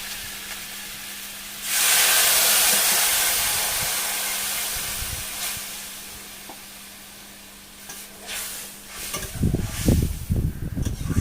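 Water poured into a hot pan while cooking catfish curry hits with a sudden loud sizzling hiss that slowly fades over several seconds, then gives way to softer bubbling and stirring clatter near the end.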